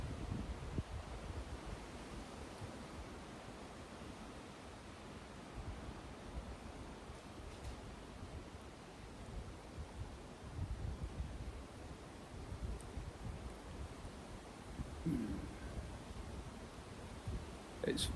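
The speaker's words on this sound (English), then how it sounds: "It's a bit windy" Wind blows steadily outdoors, a low, faint rumble and rustle buffeting the microphone for the whole stretch with no clear pauses, with soft scattered knocks and shuffles underneath.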